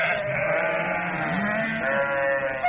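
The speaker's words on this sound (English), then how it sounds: "Where did all these sheep come from?" Sheep bleat together in a home in a comedy sketch, wavering sustained cries close and loud, overlapping over a few seconds with no speech.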